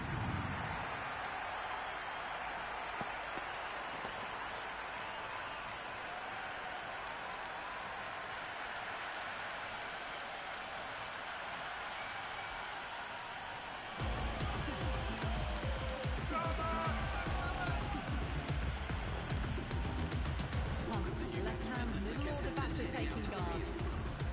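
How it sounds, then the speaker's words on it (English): Stadium crowd noise from the cricket video game Cricket 26, set at an IPL match. A steady roar of spectators fills the ground, then swells suddenly into a louder, denser din that holds to the end. "the crowd have joined the party. It's pretty noisy at the ground."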